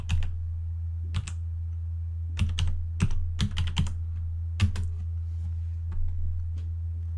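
Keys tapped on a computer keyboard as slack.com is entered, in a few short bursts of clicks spread across the clip over a steady low hum, with no talking.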